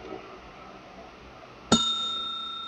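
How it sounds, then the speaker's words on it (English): A single bright bicycle-style bell strikes once in a quiet room during a live-streamed meeting and rings on with a long, steady, clear tone. Low background hum is present. "Bell, what's ringing the bell for?"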